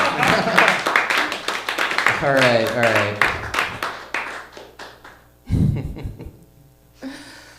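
Audience applause at an open mic stand-up comedy night, a burst of clapping mixed with loud talk from the host and cheering voices, fading out near the end.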